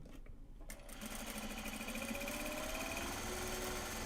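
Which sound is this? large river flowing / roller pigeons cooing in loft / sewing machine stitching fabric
sewing machine stitching fabric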